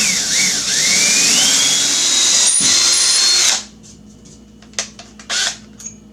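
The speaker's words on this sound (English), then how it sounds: "I'm going to use the drill bit to go through the door" A power drill with a bit bores through a door during a door knob installation, whining loudly and steadily for several seconds before stopping, followed by a few short clicks and handling bumps.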